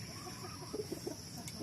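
A broodcock and broodhen clucking nearby, several short soft clucks in a loose rhythm over steady background hiss and hum.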